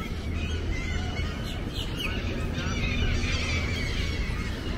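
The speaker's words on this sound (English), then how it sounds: "All the birds." Birds honking near the water at Tarpon Springs, faint goose-like calls over a steady loud wash of wind and outdoor background noise.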